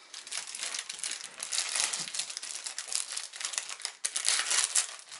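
A large plastic bag being handled during sandwich preparation, crinkling and rustling continuously in dense, close bursts with a brief pause partway through, and no talk.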